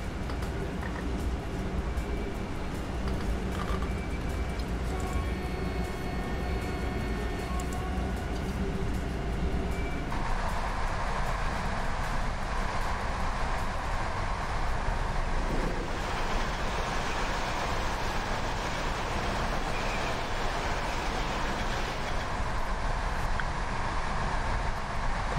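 Electric train running under power in the MaSzyna train simulator game, a loud continuous rumble of wheels and traction motors with steady whining tones that shift partway through, with no talking.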